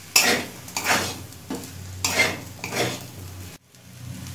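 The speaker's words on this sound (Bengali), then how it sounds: "সয়া সস দিয়ে খুব ভালো করে মিশিয়ে নিয়েছি" A spoon stirs soy sauce into sizzling egg and chicken pasta in a pan, producing several rhythmic scraping sweeps and clinks over a steady frying hiss before the sound cuts off abruptly near the end.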